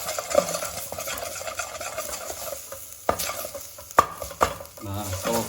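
Pork tongue frying in a pot with a little fat, garlic and spices, stirred with scraping strokes over a light sizzle, punctuated by a few sharp clanks of the utensil against the pot.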